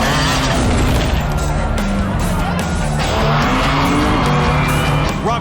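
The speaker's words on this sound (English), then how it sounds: "Robbie's tires slip on a spot of engine oil on the pavement." A motorcycle's tires slip on a patch of engine oil on pavement during a stunt jump attempt over a row of trucks, a loud sustained engine drone with skidding, screeching texture throughout.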